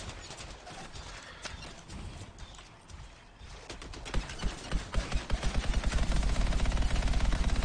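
A high-powered machine gun in the video game Anthem fires fast, steady, evenly spaced shots that grow louder and denser partway through, following a clattering mix of game action. No one talks.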